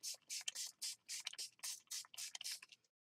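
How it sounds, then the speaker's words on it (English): Quick repeated spritzes from a spray bottle misting a mixed media journal page, about ten short hissing bursts in an even rhythm, close and alone. "I'm going to spray this"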